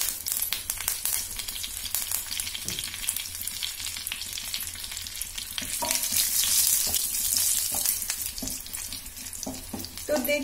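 Cumin seeds and curry leaves sizzle in hot oil in a pan while frying for moong dal khichdi, giving a continuous close hissing crackle with occasional clinks of stirring and no speech.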